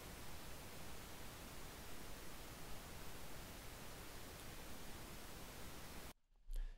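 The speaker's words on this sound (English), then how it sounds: "run our pink noise" Steady, even hiss of pink noise, constant and full-bodied, cutting off abruptly near the end followed by a brief low thump.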